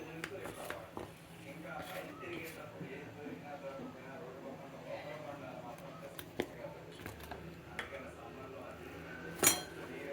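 Knife cutting cooked food on a plate, with soft scraping and occasional clinks of metal on crockery, fairly quiet and spread across the clip while someone talks.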